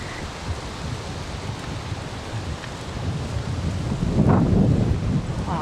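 Strong wind gusts roar and buffet across a lakeshore, a broad rushing noise that swells louder toward the end, with no voices.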